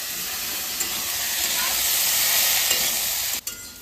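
Spices sizzle and fry steadily in a hot pan while being stirred, a continuous close hiss with a few soft scraping bumps and a brief pause near the end.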